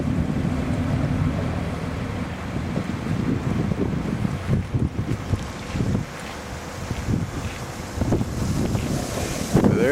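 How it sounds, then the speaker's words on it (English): A lobster boat motor rumbles low across the water amid heavy wind buffeting the microphone, with waves washing in the background. "There's a lobster boat going out."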